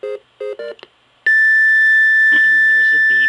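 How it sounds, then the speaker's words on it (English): Beeps from an FPGA triangle wave synthesizer: a few short tonal bursts, then a long sustained steady tone that holds to the end, with a voice speaking over the later part. "There's a beep."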